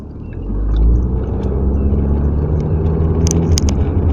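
An automatic transmission in a 1991-1997 Ford Escort shifts from first to second gear, a steady low engine rumble and drivetrain drone that swells early and holds on, with faint higher ticks near the end.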